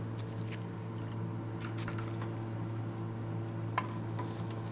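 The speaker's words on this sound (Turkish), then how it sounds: "Köftelerimizi mangala seriyoruz babacığım." Köfte meatballs laid over a charcoal mangal sizzle faintly and steadily beneath a low background hum, with a few soft clicks and one brief tick near the end.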